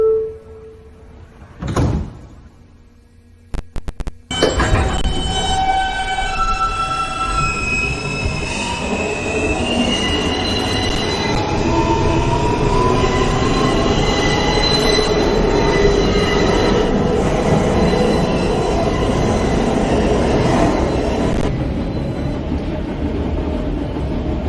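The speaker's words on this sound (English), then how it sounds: "This is a Queens-bound N local train." A New York City subway N local train on the Broadway line runs loudly. A door thud comes first, then rumbling wheels, rising squealing tones and a sustained roar as the car moves along the track.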